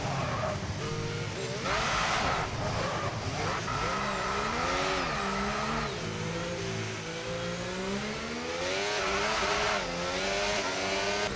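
In the F1 25 video game, a Formula 1 car spins through 180 degrees on the Baku street circuit, its tyres squealing as the engine whines and revs up and down, loud and continuous.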